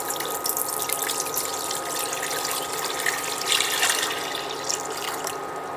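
Water poured into a pot to start a Thai pork-barbecue dipping sauce broth, a steady close splashing and trickling stream that runs continuously without pause, with no voices over it.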